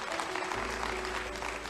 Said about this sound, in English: give the Lord a hand clap of praise in the house